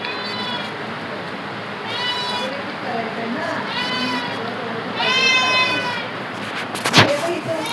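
A pet cat meows several times in separate drawn-out calls, close and fairly clear over a low background hum, with a sharp knock near the end.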